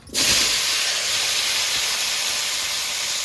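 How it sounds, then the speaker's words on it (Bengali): Potatoes drop into hot oil left from frying fish and set off a loud, steady sizzle that rises abruptly at the start and holds as a dense, close hiss with no voices. "এবার মাছ ভাজা তেলের মধ্যে আলুগুলো দিয়ে দেবো।"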